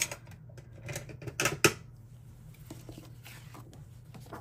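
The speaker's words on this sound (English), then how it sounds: "here I'm going to go ahead and cut this side off" Scissors cutting a strip off a paper planner page, a few close crisp snips and paper rustles clustered in the middle, with quiet room noise after.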